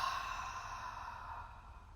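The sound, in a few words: deep exhale during an ab exercise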